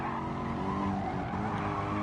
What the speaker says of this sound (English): Anda Bila Lagi having a bit of oversteer there